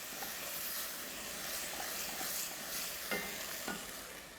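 White wine bubbling and sizzling in a pot while deglazing a chicken hotpot with spring vegetables, a steady bright hiss with occasional soft pops and stirring scrapes, close and continuous.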